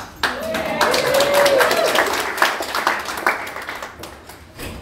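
Audience at a clean comedy show in Granvida clapping, a broad burst of applause rising quickly and then thinning into scattered claps, with a voice faintly over it.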